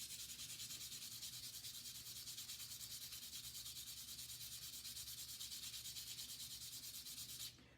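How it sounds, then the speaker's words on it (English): Sandpaper of 150 grit rubbing over a smooth stone pipe in the Plains Indian peace-pipe style, a steady close scratchy hiss in even strokes that runs nearly unbroken for about seven seconds before stopping. "I'm going to start with a 150 grit sandpaper."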